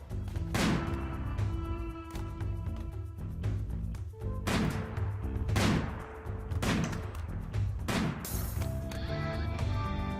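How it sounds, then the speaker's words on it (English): Gunfire in the colony game Rimworld, a series of separate sharp shots spaced a second or so apart over steady background game music. "Keeps looking like these guys are shooting my guys"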